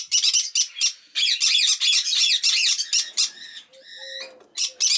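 Shrill, raspy chirping from young red-rumped parrots in a nest box in rapid bursts, nearby and loud, with a brief pause and a few thinner whistled calls.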